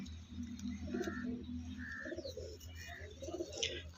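Pigeons coo repeatedly at a pigeon sale in Uluberia, soft rolling coos with a few higher chirps over a steady low background hum, moderately distant and fairly quiet.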